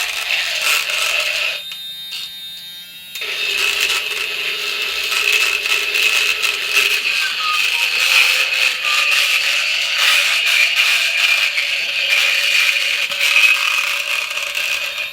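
A paint shaker machine rattles and shakes a bottle of paint in a steady, loud mechanical clatter with a whirring tone that runs continuously, broken briefly near the start by a short change in pitch.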